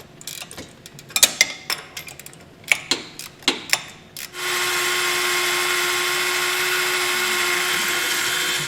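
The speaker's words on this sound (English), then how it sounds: "So with our hole drilled through," A few clicks and clanks of handling give way to a loud, steady whine of a power drill running continuously, close by, boring a hole through a metal bracket on a 2021 Jeep.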